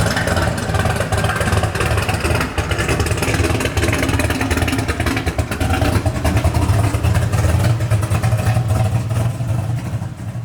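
An 850 hp Chevelle with a 632 cubic inch, 10 liter naturally aspirated V8 roars loud and continuous, a thick rumbling engine note that holds steady throughout.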